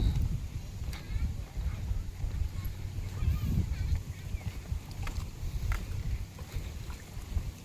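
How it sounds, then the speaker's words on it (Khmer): A boat ride on the water at Roung Phnom Toek Thum brings a continuous low rumble with wind buffeting the microphone and faint splashing, steady and moderately loud throughout. "ហើយចង់ជិះទូកលេងចូលទៅក្នុង"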